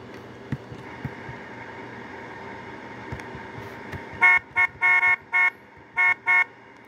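In a bus simulator game, a bus horn sounds in the shave-and-a-haircut pattern: a quick run of loud toots followed by two spaced honks, over a low engine idle with faint clicks.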